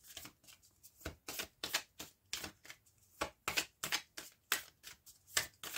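Oracle cards shuffled by hand for a tarot reading, a series of crisp riffling bursts in an uneven rhythm, close and clear with no talk.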